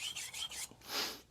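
Shirogami 2 steel santoku knife drawn over a sintered ruby whetstone, four quick close rasping strokes followed by a longer, louder sweep, soft and dry with no talking.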